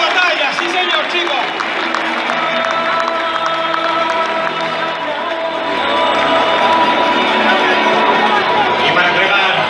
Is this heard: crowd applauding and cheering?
yes